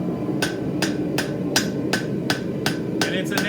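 A blacksmith's hammer strikes an anvil in an even rhythm of about eight sharp, ringing blows, near and loud, over a steady background hum.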